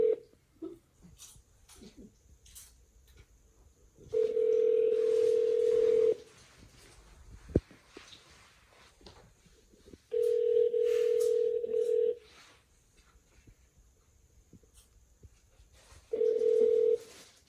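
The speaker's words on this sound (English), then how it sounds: "Oh, it's ringing." A telephone ringing tone sounds three times in long steady bursts, each about two seconds, separated by longer pauses with faint background noise.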